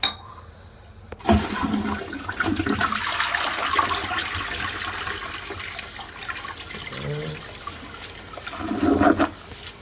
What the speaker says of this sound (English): let's go ahead and flush it